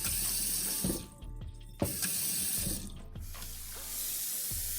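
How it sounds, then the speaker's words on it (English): Water runs steadily from a sink tap, a continuous hiss with a couple of brief knocks and clatters as it flows. "the sink and the water running will give like a dope texture"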